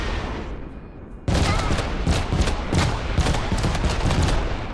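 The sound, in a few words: carpet bomb attack from a video game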